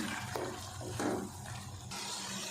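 About a quarter cup of water pours into a pot of methi matar aloo on the stove, a brief, steady splashing pour heard fairly close.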